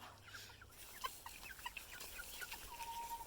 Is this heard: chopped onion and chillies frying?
no